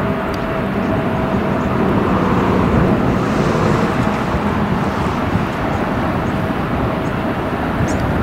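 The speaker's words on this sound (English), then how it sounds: "There's an airplane out there, I just don't see it." Airplane flying near LAX airport in Los Angeles, heard as a loud, steady broadband roar that persists evenly throughout with wind buffeting the microphone.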